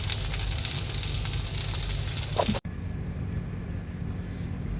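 Chicken fries in a pan for chicken parmesan, a loud dense sizzle that breaks off abruptly halfway through and then continues as a quieter hiss, with no voices.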